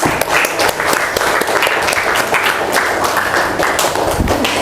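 A classroom of students applauds a classmate with steady, close clapping that lasts several seconds, mixed with a few thumps and taps.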